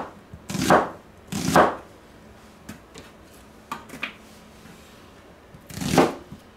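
A pepper being chopped with a knife on a board: two loud crunching strokes close together, a few lighter taps, then one more loud cut near the end.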